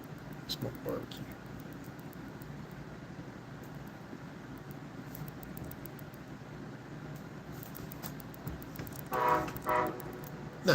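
A freight or Amtrak train passing on nearby tracks, a continuous low rumble and rattle of rolling cars with a louder swell near the end, under room noise.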